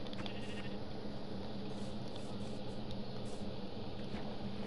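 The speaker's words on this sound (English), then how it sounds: "I see a sheep." Sheep bleat in a video game, a steady broadband animal sound running continuously over several seconds under constant game ambience, with no talking.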